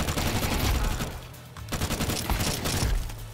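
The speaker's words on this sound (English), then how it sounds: "I literally perfectly recoil controlled that to the point where I hit every single shot." Rapid automatic gunfire in Counter-Strike 2, dense sustained bursts of shots with a short pause in the middle, loud and close with no talk over it.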